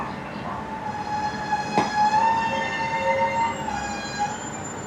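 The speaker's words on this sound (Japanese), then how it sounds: "特急浜風3号がすれ違い列車として竹野駅に入ってきました。" Limited express Hamakaze 3 pulling into Takeno station as a passing train, a sustained rumble with ringing tonal wheel or brake squeal and a sharp clank partway through, fairly close.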